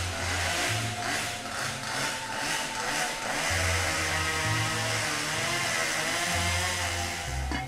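A chainsaw drones loudly throughout on a talent show stage, its engine revving up and down in surges as it bites through wood.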